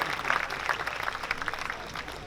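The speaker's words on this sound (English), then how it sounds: "A round of applause." Audience applause at a Malay Culture Fest performance at the Malay Heritage Centre in Singapore, a brief burst of scattered clapping heard at some distance with faint crowd murmur.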